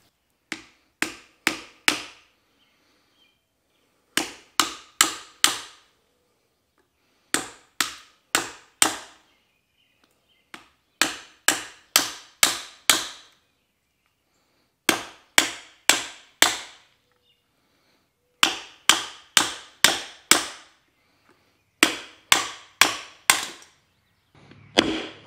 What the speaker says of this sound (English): we're gonna just tap on this with the hammer here